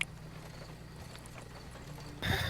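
Panicked horses, with clip-clop hoof sounds and a burst of whinnying near the end, heard at moderate distance over a steady background.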